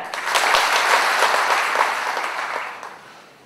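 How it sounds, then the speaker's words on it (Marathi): An audience claps warmly at a prize distribution ceremony in Maharashtra, a burst of applause that swells quickly, holds, then fades away over a few seconds. "एकदा जोरदार टाळ्या"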